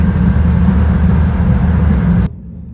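A high-speed train travelling at around 220 km/h, heard from inside as a steady, loud low rumble with a continuous roar that cuts off abruptly near the end.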